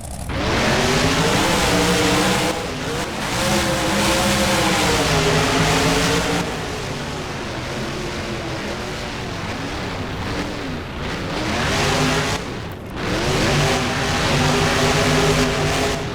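Monster truck engines roar continuously while racing at a fairgrounds track in the video game BeamNG. The loud, close engine drone surges and dips as the trucks rev and accelerate, with no talking.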